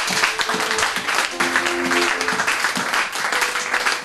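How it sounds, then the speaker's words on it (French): A church congregation breaks into sustained applause, dense broadband clapping filling the space for several seconds, with faint voices and a brief tonal hum in the background. "Est-ce qu'on peut acclamer cette parole?"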